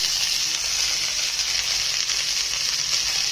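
Niger seeds roast in a pan for a bitter gourd chutney with a loud, steady, close hiss and sizzle and no pauses, and no one speaks.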